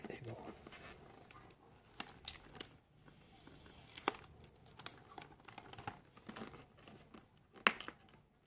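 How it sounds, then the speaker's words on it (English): Stickers are peeled and torn off the sides of a cardboard Digimon card game starter deck box, giving faint, close crinkly rips and scratchy tearing bursts with small clicks and handling noises. "let's remove the two stickers on the side"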